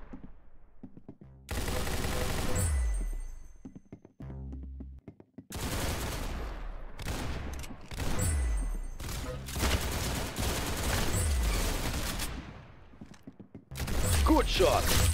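Rapid bursts of gunfire from the Roblox shooter Arsenal, loud and sustained across several volleys with short gaps and mechanical clicks between them, with no talking.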